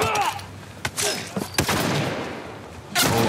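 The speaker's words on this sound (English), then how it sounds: "Oh, I'm getting shot." Gunfire striking the player in The Last of Us, heard as several sharp bursts and cracks in quick succession, with loud hits near the start and end of a short, busy combat stretch, and no talk.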